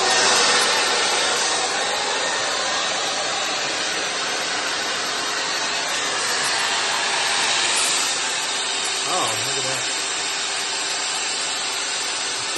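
A hair dryer roars steadily and loudly, drawing power from a BLUETTI Elite 200 V2 portable power station, its broadband blowing constant throughout with a faint brief tone near the end.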